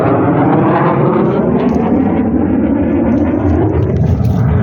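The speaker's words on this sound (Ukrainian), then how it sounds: "Бачите, літаки літають." A loud, continuous low roar of airplanes overhead above crop fields, steady and rumbling throughout, with faint voices underneath.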